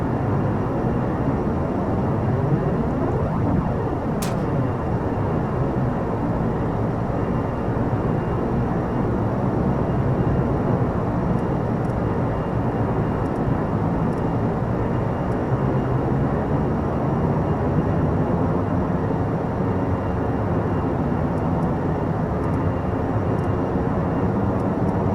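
Airliner engines spooling up during pushback in the Prepar3D flight simulator game, a steady, loud broadband roar with a droning low hum that holds constant throughout, no voices.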